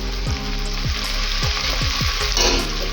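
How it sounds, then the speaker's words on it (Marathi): Garlic, ginger, chili and coriander paste frying with tomato in a pan for egg biryani, a loud continuous sizzle broken by a run of rhythmic spoon scrapes and taps, with no voices. "आता यामध्ये आपण जे लसूण, आलं, मिरची आणि कोथिंबीरची पेस्ट केली आहे ती आपण यामध्ये टाकूया"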